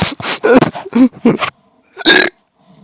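A person imitates a hiccup with their voice, making a few loud, short, croaky bursts close to the microphone, separated by brief pauses.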